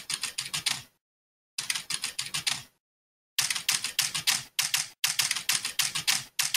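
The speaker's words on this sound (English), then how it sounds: "When you type random characters on the keyboard, that's called increasing entropy." Rapid clatter of keys as random characters are typed on a computer keyboard, loud and close, in several dense bursts broken by short pauses, with no voices.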